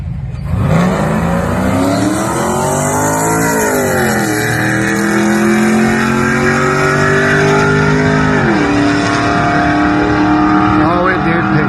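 A tuned LS1 V8 car at wide open throttle, engine revving hard and rising in pitch through several gear changes, loud and close for the full length.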